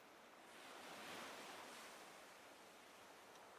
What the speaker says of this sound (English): The ocean and the inventory sounds.